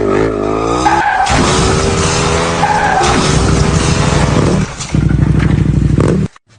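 Cartoon car driven hard, with loud continuous engine whine and screeching skid effects layered together, a brief dip midway, then the racing noise resumes before cutting off.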